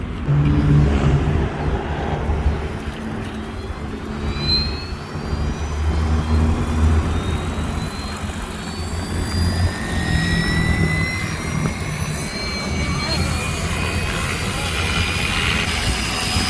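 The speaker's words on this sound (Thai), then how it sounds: "เดี๋ยวเราจะออกไปกลางแจ้งลอง บินกับใช้ระบบของวิทยุครับ จะมาลองบินทักสอบบินว่าใช้วิทยุเป็นยังไงบ้างใช้ง่ายไหม" A Fly Wing FW 450L 3D remote-controlled helicopter flying outdoors, its rotor whine rising and falling in pitch with a steady drone throughout, while someone talks over it.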